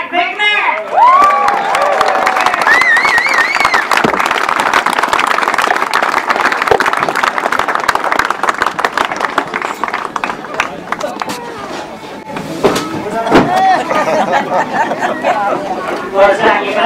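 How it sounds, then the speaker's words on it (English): Crowd at a grasstrack motorcycle race cheering and chattering loudly and steadily throughout, with a brief dip near the end before the noise rises again, as a voice speaks over it. "I want to hear a big round of applause"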